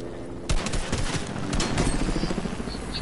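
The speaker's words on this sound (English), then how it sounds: "I missed no shots on this henchman." Video game gunfire rings out in sharp, close bursts, a quick cluster of shots cracking after a brief quiet start, then more scattered reports.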